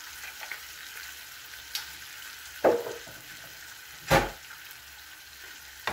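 Chicken lechon paksiw with vinegar and black pepper stirred in a pan, a low sizzle broken by two or three sharp scraping clanks of the spoon against the pot.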